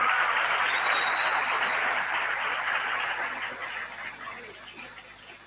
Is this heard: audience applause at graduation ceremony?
yes